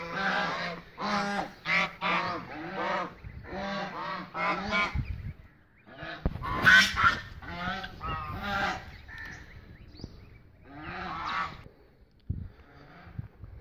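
Geese and ducks in a village enclosure honk repeatedly in loud, close bursts, with calls overlapping in uneven clusters and short quiet gaps between them.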